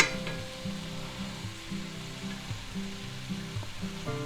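Sausage, hot peppers and chopped onion sizzle steadily in a hot pan while a utensil stirs them with soft periodic scraping, close and continuous with no voices.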